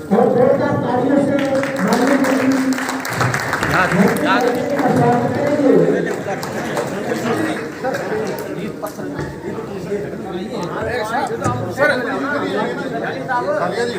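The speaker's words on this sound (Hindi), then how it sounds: "और जोरदार तालियों से माननीय" Audience applause at a public gathering welcoming a cabinet minister, with the crowd standing; loud, busy clapping mixed with heavy crowd chatter and voices, strongest early, then easing into continued murmur and scattered claps.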